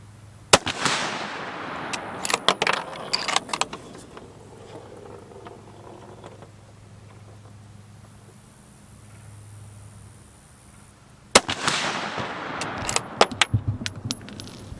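Sharp shots from a Browning Hells Canyon rifle in 6.5 Creedmoor, loud and close: a burst of cracks near the start, a quieter stretch with a low hum, then another cluster of reports near the end.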